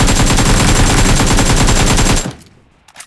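Rapid automatic gunfire in PUBG rattles loud and close in a continuous burst for about two seconds, then stops abruptly, leaving a faint tail and a couple of quieter clicks.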